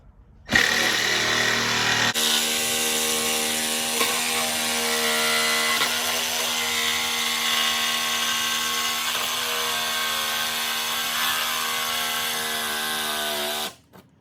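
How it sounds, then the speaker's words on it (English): A jigsaw cuts through a stock Harley-Davidson saddlebag lid to fit a Rockford 6x9 speaker kit. It runs loud and steady for about eleven seconds, close up, with no one speaking. "Don't try and make it turn with the jigsaw. Jigsaws don't like to cut around bends. They like to cut straight."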